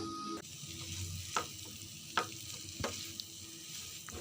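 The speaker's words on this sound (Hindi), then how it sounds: "तीनों को अच्छे से मिक्स कर लेंगे।" Hot sauce, chili sauce and soy sauce are stirred together in a pan for a vegetable sandwich filling, giving a soft steady sizzle with a few light clinks of the spoon against the pan.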